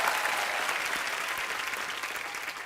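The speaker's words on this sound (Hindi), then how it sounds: "जोरदार तालियां हो जाएं प्लीज।" Studio audience applause on a television talk show, a steady dense roar of clapping that stays loud and even throughout with no voices over it.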